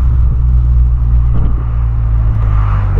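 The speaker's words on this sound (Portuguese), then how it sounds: "Polo 2008 Sportline. Olha o barulhão." 2008 VW Polo Sportline sedan making a loud, close, continuous low rumble with a steady droning hum and slight fluctuations, no talking over it.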